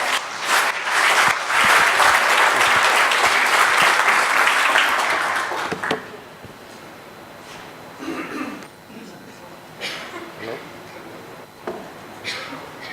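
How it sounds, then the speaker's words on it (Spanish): Seminar audience applause welcoming a professor at an international cultural heritage seminar, with dense clapping for about six seconds, then it breaks off into scattered handling noises and a voice speaking. "Recibimos con un aplauso al profesor Martín Andrade Pérez"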